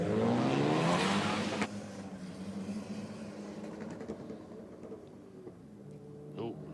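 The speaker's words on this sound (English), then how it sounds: "Oh, someone's found the rev limiter." A race car's five-cylinder engine at a motorsport event, loud and close, with a strong falling rev and then a steady engine drone under talk, ending in a brief rising burst.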